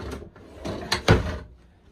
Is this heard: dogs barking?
no